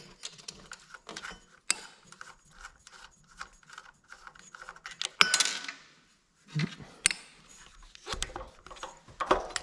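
Metal mechanism clicking and ratcheting as a double nut setup is wrenched off the studs of a stuck Honda clone 3-inch trash pump engine, with irregular close clanks, rattles and a few sharper knocks, no talking.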